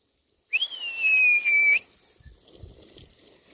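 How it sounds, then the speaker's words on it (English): A single clear whistle calling a Cane Corso dog, rising then holding a long steady tone for over a second, followed by faint rustling and quiet movement outdoors. "Funny story, Enzo mimics my whistle now."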